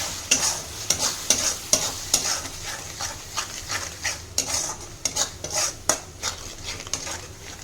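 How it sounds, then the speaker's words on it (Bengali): Spice paste with yogurt and onions stir-fried in a pan for prawn malai curry, a steady sizzle under repeated sharp scrapes and clinks of a spatula, close and fairly loud with no talking. "এবার মশলাগুলো আমি ভালো করে কষে নিচ্ছি।"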